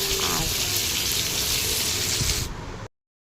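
Mixed vegetables frying in a pan with nigella seeds, a steady broad hiss that runs close and loud for nearly three seconds, then cuts off abruptly.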